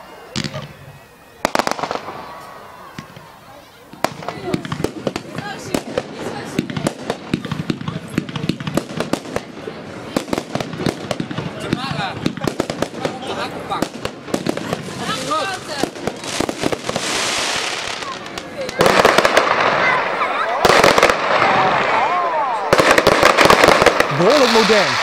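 Computer-fired fireworks display at a demonstration in Almelo, loud and fairly close, with a dense rapid barrage of cracks and pops building into continuous roaring bursts toward the end.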